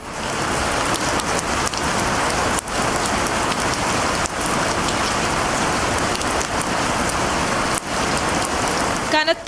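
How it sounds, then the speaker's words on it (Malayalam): Heavy rain in Thiruvananthapuram pours down in a dense, continuous roar during a thunderstorm, close and loud, with a few faint thuds and a brief rustle at the very end. "തിരുവനന്തപുരം ജില്ലയിലാകെ ശക്തമായ ഇടിമിന്നലോട് കൂടിയ മഴയാണ് അനുഭവപ്പെടുന്നത്."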